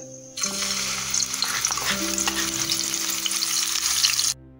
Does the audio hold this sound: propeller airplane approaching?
no